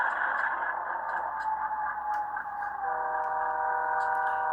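A Rapido HO scale Norfolk Southern C30-7 model locomotive rolls past on a night-time layout. Its horn sounds as a loud sustained blare whose pitch drops as it goes by, over a steady rumble of running gear.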